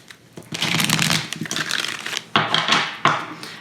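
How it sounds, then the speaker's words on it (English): A deck of tarot cards being shuffled by hand, with bursts of riffling and soft slapping card sounds in uneven rhythm, close and fairly loud, with no speech. "I've already been shuffling and meditating on your cards for quite some time"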